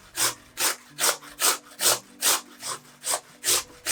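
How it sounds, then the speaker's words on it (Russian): Two large potatoes are rubbed down a coarse grater in quick, even strokes, about ten rasping scrapes in four seconds. Each stroke is loud, close and rhythmic, with no talking. "2 крупных картофелины тру на крупной терке."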